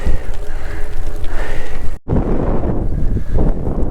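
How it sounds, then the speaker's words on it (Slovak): Strong wind buffets the microphone on a hilltop on the way to the Veľký Lopeník lookout tower, a loud, continuous roar with a brief dropout midway before the gusting resumes. "Vetrik fúka dosť silno na to, aby to ešte posunul."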